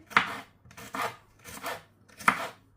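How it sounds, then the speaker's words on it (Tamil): Garlic chopped into small pieces with a knife on a board for Sri Lankan chicken devilled, with four distinct, evenly spaced chopping strokes, close and clear, without talking. "உள்ளியை வந்து நல்லா சின்ன சின்னதாக ஸ்லைஸ் பண்ணிட்டு குட்டி குட்டியாக அரிஞ்செடுப்போம்"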